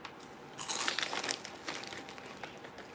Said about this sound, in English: Now the crunch on that.